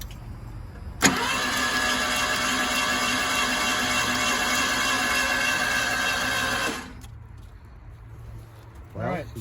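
A Ford engine cranks at the one-second mark and catches, then runs steadily at a loud, even idle for about six seconds before cutting off. Birds and faint sounds follow in the quieter tail.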